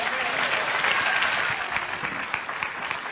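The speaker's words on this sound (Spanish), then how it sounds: "Dale un aplauso al Señor." A church congregation applauds together in a steady, dense wash of clapping that holds for about three seconds at close range, with faint voices mixed underneath.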